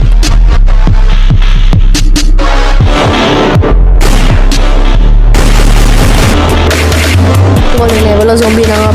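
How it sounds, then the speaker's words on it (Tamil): Gunshots fired at zombies in a short zombie film, a dense run of loud booming shots and blasts layered over a heavy low rumble, close and continuous without pause. "துப்பாக்கி எடுத்து சுடுவோம்"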